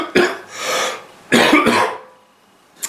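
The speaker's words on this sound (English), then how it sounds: "I've got a bit of a cough." Two harsh coughs, each a quick burst followed by a rougher hacking second one, close and loud, with silence after.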